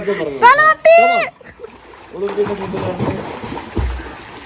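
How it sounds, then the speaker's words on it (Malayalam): Swimmers splash in a pool during a relaxed staycation with friends. Excited voices come first, then several seconds of moderate, uneven splashing and sloshing water nearby. "പോരെ വെള്ളം തെറിച്ചു."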